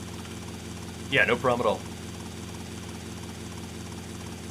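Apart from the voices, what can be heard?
VCN Maverick helicopter flying in video game Grand Theft Auto: Vice City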